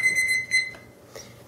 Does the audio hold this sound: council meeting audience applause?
no